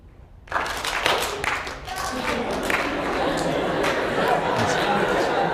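An audience breaks into sustained applause, loud and close, with many overlapping claps and some chatter mixed in, rising from a quiet start and continuing steadily.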